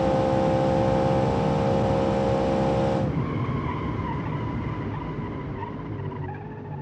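A 750-horsepower race car in a driving video game roars at high revs with tires squealing, then the engine note drops abruptly and fades into a lower, wavering drone as it pulls away, loud and continuous with no voices.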